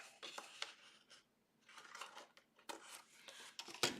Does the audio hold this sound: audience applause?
no